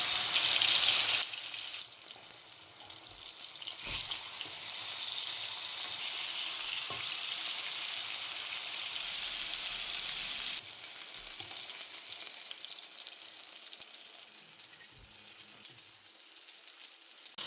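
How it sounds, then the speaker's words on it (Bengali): Rohu fish fillets fry in hot oil in a pan, giving a steady, bright sizzle that stays loud and continuous throughout, with a brief sharper burst near the start and a few small clinks from turning the pieces. "মাছগুলো ভেজে নিচ্ছি"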